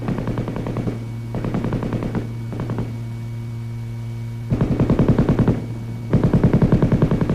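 An M60 7.62 mm belt-fed, gas-operated machine gun fires several loud, rapid automatic bursts separated by short pauses, over a steady low electrical hum.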